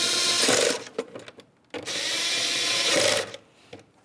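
Power tool snugging down the mounting nuts on an air suspension compressor of a 2003-2011 Mercury Grand Marquis: two loud, close bursts of whirring and rattling, each about a second long, with short pauses and clicks between.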